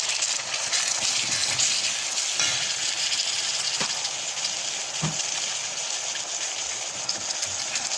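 Chicken kurma masala with tomato and salt sautéing in a pan, a steady broadband sizzle running throughout at even loudness with a few soft stirring knocks, no voices.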